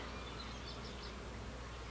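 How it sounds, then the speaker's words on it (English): A steady, low droning hum of a swarm of bees buzzing together, continuous and fairly close, with no voices. "That's a lot of bees. This is a lot of bees."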